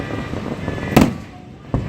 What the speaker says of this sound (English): Ali's first firework night at Dodger Stadium.